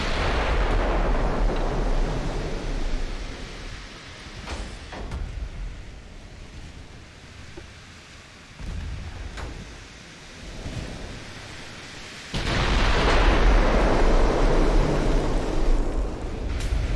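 Naval gunfire and shell impacts in the battleship game Ultimate Admiral Dreadnoughts, including heavy 14-inch and 16-inch guns, heard as deep rumbling booms and a sustained roar that swells at the start and again near the end.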